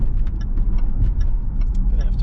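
A 2018 Range Rover Sport HSE Supercharged accelerating at half pedal down a ramp in daily driving: a steady, low engine drone with road rumble heard from inside the cabin, with faint ticking noises on top.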